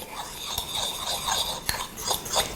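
A spoon stirs and scrapes a mustard, salt and pepper coating for rack of lamb in a bowl, with light clinks and taps at irregular intervals, close by and with no talking.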